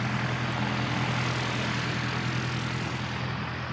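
A propeller aircraft drones steadily and loudly overhead at Christchurch Airport, New Zealand, during pilot training, a continuous engine roar with no letup.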